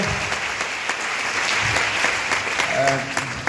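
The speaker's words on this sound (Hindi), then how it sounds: "एक बार तालियां थोड़ी सी" Steady audience applause at a family gathering, moderately loud and continuous, with a few voices faintly audible beneath the clapping.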